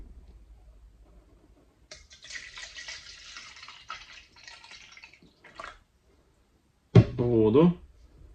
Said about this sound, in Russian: На дно сейчас налью воду.